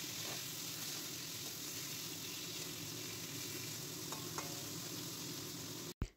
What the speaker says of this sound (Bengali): প্রথমে তেলে বেগুনগুলো দিয়ে দিলাম। বেগুনগুলো হালকা করে নেড়ে দিলাম।